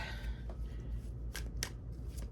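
A deck of oracle cards being shuffled, with two crisp riffling bursts over a low, steady background hum; no talking.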